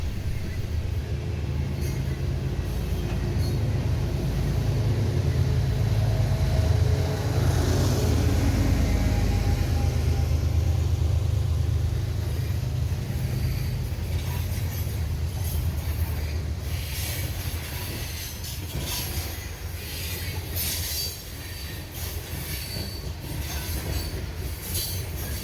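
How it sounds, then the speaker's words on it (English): DPU diesel locomotive on a passing freight train, engine revving loudly with a deep rumble under rolling railcar wheels, a squeal and some clatter, near and continuous. "DPU coming through, and man, those RPMs are revving."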